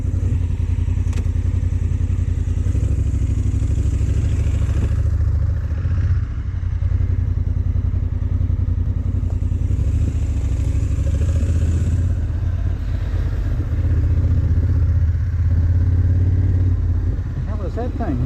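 A Yamaha XV750 Virago cafe racer motorcycle being ridden, its V-twin engine droning loud and steady throughout with wind rush and road noise, and a voice faintly under it.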